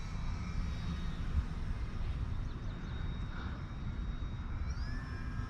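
An RC model airplane flies slowly overhead with its flaps down, giving a steady broadband motor and propeller drone with a faint whine, at moderate distance and unchanging in level.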